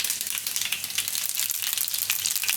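Mustard and cumin seeds sizzle and crackle steadily in hot oil in a pan, with bright continuous spitting and popping close up and no talk.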